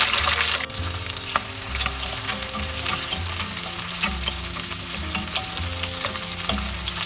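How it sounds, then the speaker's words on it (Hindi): Chopped shallots frying in hot vegetable oil in a pan for a South Indian Chettinad chicken curry, a loud, dense, continuous sizzle with occasional stirring scrapes, close up and alone. "अभी इसमें जो शैलड्स कट के रखा है ये भी डाल देती हूँ।"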